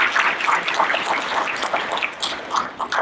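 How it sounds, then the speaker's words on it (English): Audience applause at a community talk honouring local pioneers, a steady crowd clapping that fills the whole stretch at moderate loudness with no voices over it. "So can we give them a round of applause"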